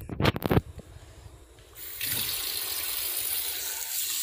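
Tap water running into a sink while boneless meat is washed, a steady close gush settling in after a few sharp handling knocks at the start.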